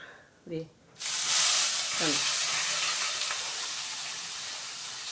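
Chopped ivy gourd hits hot oil with curry leaves in a pan, setting off a sudden loud, sustained sizzle and hiss that slowly eases, with someone speaking briefly before and under it.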